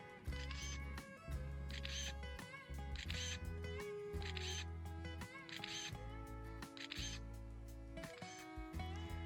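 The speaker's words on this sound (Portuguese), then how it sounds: "Vou aproximar aqui do microfone só para vocês terem uma noção aqui também da velocidade com que o drone registra essas fotos." The mechanical shutter of a DJI Mavic 3 Enterprise mapping drone fires in quick succession, a crisp repeated clicking at a steady rhythm about every second, close to the microphone and heard alone over a faint motor hum.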